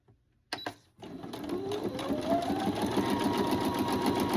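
After a couple of quiet clicks, a sewing machine starts stitching fabric and runs in a steady, close, whirring rattle that rises slightly in pitch as it speeds up, with no talk.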